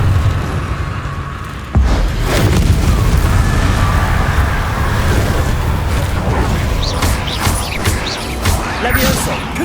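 A spell explosion in the Hogwarts Legacy video game: a sudden loud blast followed by dense rumbling and crackling debris that lasts several seconds, with a voice shouting during the combat.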